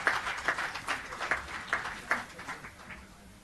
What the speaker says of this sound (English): A big round of applause for CA Pramod Jain sir.